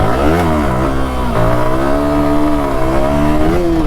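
A motorcycle engine revving hard during a wheelie attempt, loud and close, its pitch rising and falling through several throttle blips before settling into a steady high rev.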